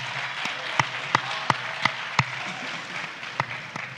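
Scattered individual hand claps ring out from an audience at a presidential town hall meeting, about eight sharp, separate claps over several seconds against a steady hum of room noise, with no voices.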